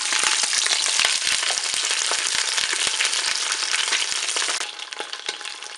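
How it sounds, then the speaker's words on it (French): A whole chicken browning in a Cookeo multicooker pot gives a loud, dense, continuous sizzle with sharp spitting pops of fat, easing slightly toward the end, with no talk. "je vais faire dorer mon poulet sur toutes ses faces"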